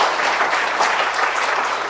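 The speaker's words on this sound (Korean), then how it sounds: "큰 박수 부탁드리겠습니다." A church congregation at a Methodist Sunday service claps steadily after a baptism. The applause is full, dense and even, with no talk over it.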